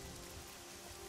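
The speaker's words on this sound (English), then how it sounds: "I just thought it was funny the way the rain is rendered in Oblivion." Steady, quiet rainfall in the fantasy role-playing video game Oblivion, a soft even hiss with no pattering detail or other sounds, with no one talking.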